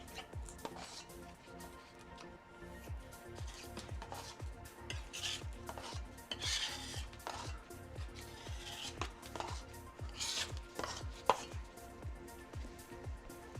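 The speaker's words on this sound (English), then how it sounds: "I'm going to scrape this excess paint." Excess paint is scraped off a canvas in a series of close, rhythmic scraping strokes, roughly one per second, each a short rasping sweep with some clinks between.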